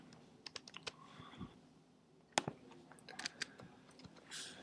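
Light, uneven keystrokes tap on a computer keyboard in short bursts with pauses, faint and close in a quiet room.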